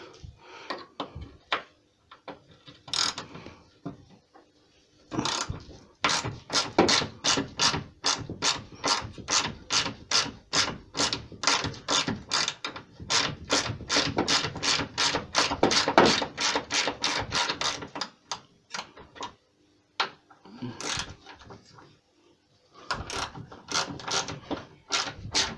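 A ratchet undoes the bolts on the bonnet catch of a 2007 Ford Transit Connect, heard as close, loud runs of rapid clicking separated by short pauses.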